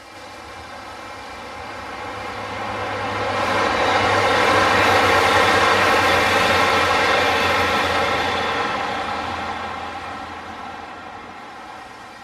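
A passenger train rumbles past on the Glasgow & South Western Railway at Glengarnock, North Ayrshire, building from a distant approach to a loud, steady roar at the middle and then fading away again.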